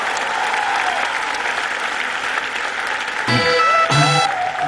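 An audience at an awards show applauds to welcome a film's star cast, steady dense clapping throughout with music tones rising over it near the end.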